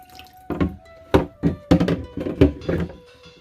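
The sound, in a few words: water draining from washed chicken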